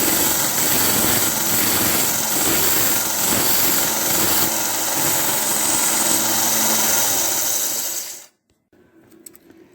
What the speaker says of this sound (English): Now over to the little belt sander here, and we'll just put a little chamfer on it.